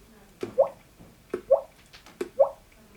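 A voice imitates a water drop by slapping the cheek: three evenly spaced, hollow, resonant plinks, each a quick tap followed by a rising, liquid-sounding pop, close and clear with no talking.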